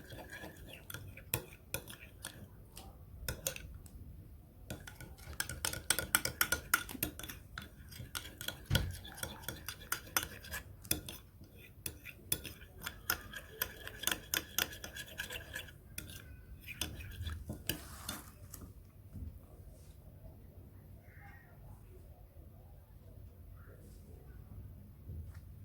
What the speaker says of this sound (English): Then I'll mix all the ingredients together properly,